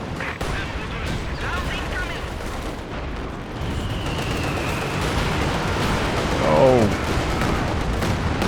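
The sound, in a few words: mortar firing in Company of Heroes 2 video game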